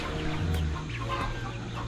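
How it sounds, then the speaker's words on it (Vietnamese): Chickens on a hot, sandy-soiled rural homestead cluck and mutter steadily, a close, continuous flock sound with no talking over it. "nuôi ít gà nữa mọi người"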